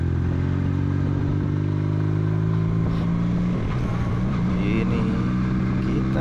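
A Benelli Patagonian Eagle motorcycle rides along a coastal road between Karapyak and Pangandaran beaches, its engine droning steadily and loudly throughout, with wind rush and some clatter over the top.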